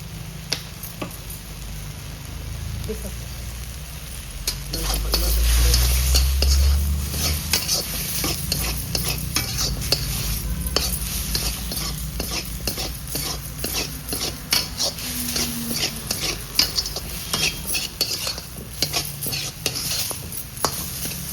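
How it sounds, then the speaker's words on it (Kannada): Chicken chilli Manchurian with tomato and chilli sauces sizzles steadily in a pan while a utensil stirs and scrapes it, giving quick repeated clicks over a constant frying hiss. "2 ನಿಮಿಷ ಫ್ರೈ ಮಾಡ್ಕೊಳ್ಳೋಣ ಕ್ಲೀನಾಗಿ."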